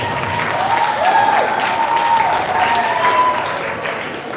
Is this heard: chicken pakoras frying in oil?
no